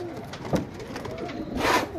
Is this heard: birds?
yes